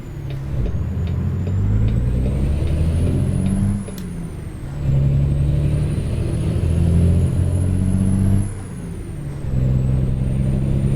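A truck engine in American Truck Simulator revs up and drops back in repeated swells, a heavy close drone with gear-change dips between surges, no talking.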